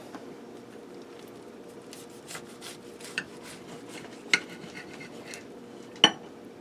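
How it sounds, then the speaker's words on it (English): A knife cuts into a fried fish sandwich made in a Copper Chef cooking pot, giving quiet scraping and rubbing with a few sharp clicks of the blade against the pan. "Let me give a cut into that sandwich so you can see how that fish looks."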